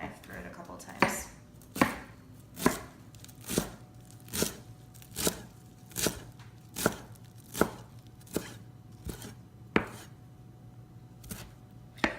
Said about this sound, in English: I kind of twist it and then fold it and then run my knife through it a couple times